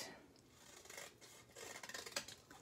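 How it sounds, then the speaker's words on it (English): Scissors cutting paper from one corner to the next, a faint, close series of soft crisp snips and rasping rubs building toward the end, with no talk. "Just take your scissors and cut from one corner to the next."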